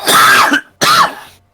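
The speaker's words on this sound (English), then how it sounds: "Oh, wait, was that a cough?" Two harsh coughs close to the listener, the first longer, the second following after a brief pause.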